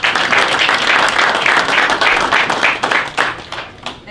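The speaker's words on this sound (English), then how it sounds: "So a big round of applause to all the fighters" An audience at a mixed martial arts championship press conference applauds loudly and steadily for the fighters, dense clapping that thins out toward the end.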